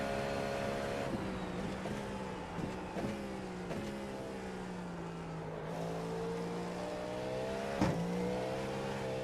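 A race car's engine in iRacing during IMSA testing at Daytona, with the rear wheels spinning, drones steadily and close, its pitch rising and dipping as the revs change, with a few sharp clicks and bumps over it.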